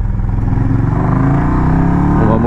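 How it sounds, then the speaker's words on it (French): KTM motorcycle engine while riding on a road, a loud, steady low-pitched drone with a fast pulsing firing rhythm, close and continuous with no speech. "Ma moto fait quand même pas mal de bruit, j'avoue"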